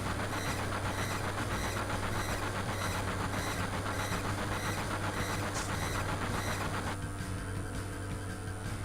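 Train ride in the Final Fantasy VII video game: a steady, loud rumble of rolling rail cars with a continuous clickety-clack and hiss that never lets up, with no talk.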